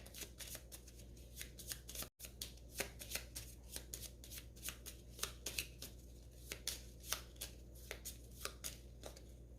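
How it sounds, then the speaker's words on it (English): A deck of attack modifier cards for the Gloomhaven: Jaws of the Lion board game is shuffled by hand, giving a quiet, close run of quick riffling bursts with a brief pause near the start. "we will reshuffle your attack modifier deck"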